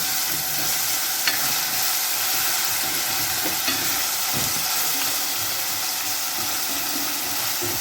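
Sausage sizzles and fries in a pan while being stirred, a continuous crackling hiss with a few scraping clicks from the utensil and no talking.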